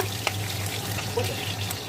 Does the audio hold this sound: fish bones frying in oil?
yes